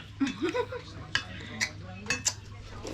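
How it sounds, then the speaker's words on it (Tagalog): A metal ladle knocks and clinks against a pot several times while sour sinigang soup is scooped out, with faint clinks and brief scraping close by over a low background hum. "Sandokan ko lang ng ulam."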